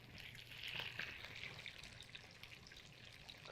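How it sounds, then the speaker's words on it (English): A steady, faint crackling sizzle of salmon cooking skin side down in hot oil, continuous and hissing throughout, with no voices. "put the salmon in here skin side down. All right, you should hear that nice little sizzle"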